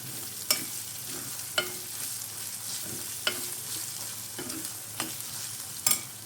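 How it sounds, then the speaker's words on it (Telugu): Masala for a raw shrimp and green mango curry fries in a pan with a constant low sizzle, while a spoon scrapes and stirs it in sharp, regular strokes about every second. "ఈ మసాలా కూడా కొంచెం పచ్చివాసన పోయే వరకు ఫ్రై చేసుకున్నాం"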